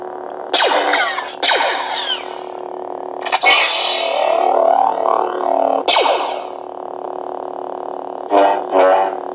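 A warbling, distorted electronic whooshing effect of a video game Force power draining a blaster, in several long swells over a steady low hum, with echoing, buzzy texture.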